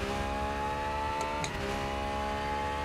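Simulated race car engine from the Rennsport racing game, a BMW M4 or Porsche 911 GT3 R, holds a steady high drone while the car drifts, with brief tire squeal in the middle; no talking.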